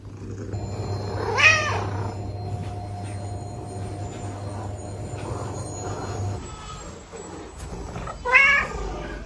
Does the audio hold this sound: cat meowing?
yes